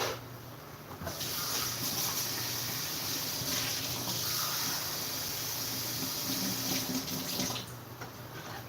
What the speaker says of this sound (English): next we're gonna add the water, which I have a measuring cup over here. I need 2 cups of water.